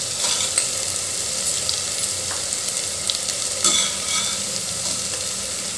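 Spice masala with a spoonful of red chili powder fries in oil for Khandeshi masala khichdi, a dense continuous sizzle with a few light scrapes and taps of stirring, up close and without talk.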